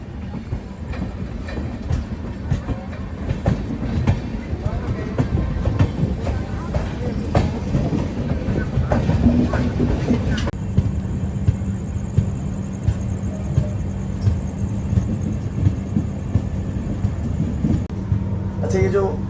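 A Gorakhpur Vadodara Special train runs on the Delhi–Kanpur main line, its rumble and rhythmic clickety-clack of wheels over rail joints continuing steadily, with a high whine entering partway through.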